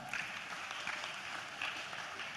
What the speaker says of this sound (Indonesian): Tepuk tangan untuk adik-adik mahasiswa.